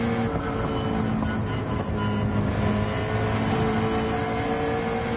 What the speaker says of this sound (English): sounds that this McLaren make are quite beautiful.